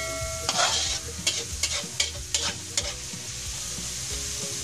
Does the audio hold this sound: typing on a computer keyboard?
no